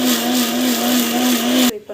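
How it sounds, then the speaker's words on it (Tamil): A kitchen mixer grinder whirs loudly at full speed while grinding ingredients, a steady high motor whine that stops abruptly near the end. "மிக்சிக்கு போட்டு அரைச்சிடலாம்."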